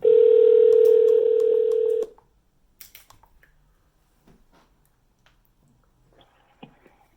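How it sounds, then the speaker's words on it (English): Phone call being placed to a podcast guest: a loud steady dial tone for about two seconds, then near silence broken by faint scattered clicks and small handling noises. "Let's give him a call"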